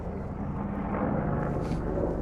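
Loud, dense low rumble of an Apache gunship helicopter overhead, steady throughout with a thick churning roar and no voices.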